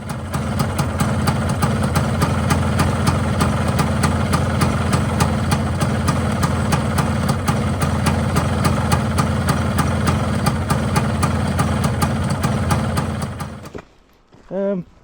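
A Vespa scooter engine idles steadily with a rapid, even putter and a low throb, loud and close for most of the stretch. It then cuts out, leaving near silence with a brief faint sound at the very end.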